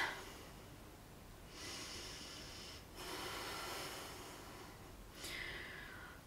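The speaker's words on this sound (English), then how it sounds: "Take a deep breath." Deep breaths after stepping down from a handstand held for twenty seconds: three slow, breathy inhales and exhales spaced a couple of seconds apart, close and quiet, with no talking.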